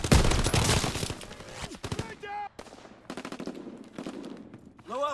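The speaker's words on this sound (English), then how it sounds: "Fighter pilot ready for strafing run." Strafing machine-gun fire from a fighter plane in the World War II shooter Call of Duty: WWII, loud rapid bursts up front that thin into scattered shots among game sounds, with brief voice lines mixed in.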